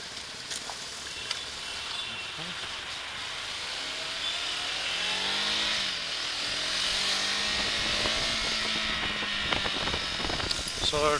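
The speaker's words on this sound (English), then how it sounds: "So it revs past 6000 RPM just like that" A KTM Adventure 390X motorcycle engine revs up past 6000 RPM in stop-and-go city traffic in Bengaluru, its pitch rising and falling in sweeps over a constant buzzy drone and road noise.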